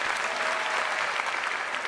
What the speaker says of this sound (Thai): ปรบมือให้หน่อย